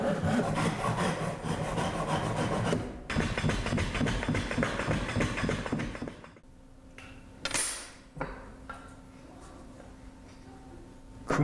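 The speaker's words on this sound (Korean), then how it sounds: "자재를 네 방향으로 돌려가며 톱질하고 단면은 대패질을 해 마감합니다." A hand saw cuts wooden stock for traditional Korean joinery in rapid back-and-forth strokes for about six seconds, then stops, leaving quieter workshop handling sounds and a brief scrape.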